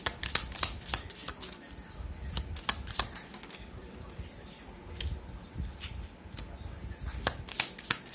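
Oracle cards are shuffled and laid out, with crisp, close clicks and flicks of card stock coming in an uneven rhythm, some sharp snaps standing out over a quiet background.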